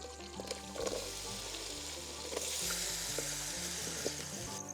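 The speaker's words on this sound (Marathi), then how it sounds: "कोळशावर आपण आता हे ठेवलं आहे अमूल बटर कांदा" Onion fries in Amul butter in a pan set over burning charcoal, giving a continuous crackling sizzle over a low background hum, with occasional faint clinks.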